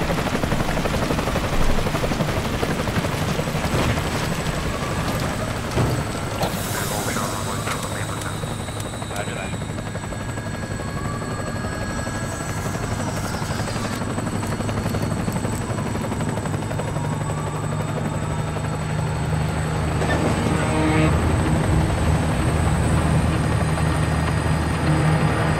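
A helicopter in the video game Metal Gear Solid 5 Ground Zeroes thumps and roars steadily and loudly the whole time, with a person talking over it now and then.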